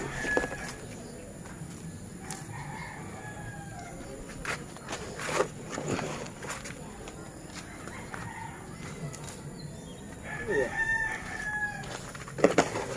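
Chickens cluck and a rooster crows a few times in an outdoor backyard garden, with steady background noise and occasional faint voices.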